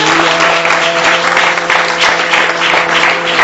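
A church congregation applauds and cheers during a sermon, with loud, continuous dense clapping and crowd noise filling the room throughout.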